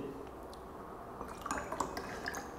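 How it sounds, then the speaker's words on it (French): Kangen water poured into different liquids such as tap water, giving a soft, steady trickle with faint drips and light splashes that pick up slightly toward the end; no one speaks. "à présent je vais prendre l'eau Kangen que je vais verser dans les différents liquides"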